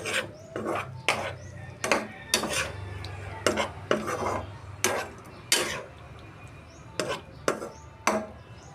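Liver and boiled eggs stirred in a pot in an outdoor dirty kitchen, a rhythmic series of about a dozen scraping spoon strokes against metal over a low simmer, close and moderately loud, with no talk.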